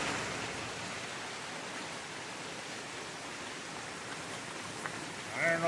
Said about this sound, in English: the rain just won't let up, and now it's really raining.